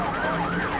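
Emergency vehicle siren: a continuous wailing tone that sweeps up and down, loud and steady, with no voices.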